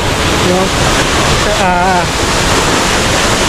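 Waterfall in Ilocos Sur heard from very close: a loud, steady broadband roar of falling water fills the whole stretch, with a brief voice rising over it midway.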